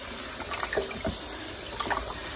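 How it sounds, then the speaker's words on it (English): Water runs steadily from a kitchen tap as mustard greens are rinsed in salt water in a sink, with a continuous splashing stream and a few faint clinks and splashes of handling. "I'm going to rinse them off. Put a little salt on there. Give it a little salt water."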